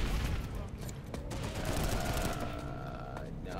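Gun turrets fire in the online shooter Planetside 2 as a dense, continuous rattle of rapid shots. The barrage stays steady throughout, and game noise and talk are mixed in beneath it.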